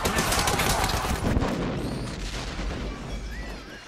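Gunfire from a movie scene in which characters burst out from behind a cinema screen and shoot. It comes as a loud, dense volley that fades over about four seconds, with faint rumble and ringing left after it.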